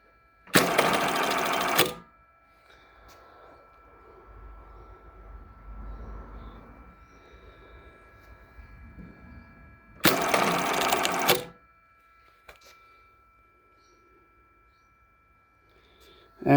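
Jack button sewing machine stitching a large 4 millimeter cross stitch: two loud, dense bursts of rapid mechanical stitching about eight seconds apart, with a quieter low hum and faint shuffling in between.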